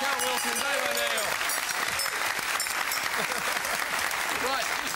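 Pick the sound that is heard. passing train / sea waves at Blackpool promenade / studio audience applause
studio audience applause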